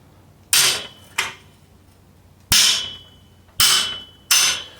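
A hammer strikes a thin wrench on a stuck, flat bottom bracket cup of an old French bicycle, five sharp metallic blows at uneven intervals, close and loud with brief ringing decay.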